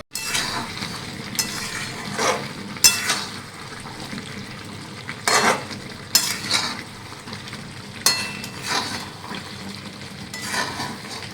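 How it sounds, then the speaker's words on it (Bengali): Chicken kosha with papaya, potato and capsicum sizzles in a pan while a spatula repeatedly scrapes and clinks against the metal, steady frying with periodic louder stirring strokes. "পেঁপে আলু ক্যাপসিকাম দিয়ে হচ্ছে চিকেন কষা।"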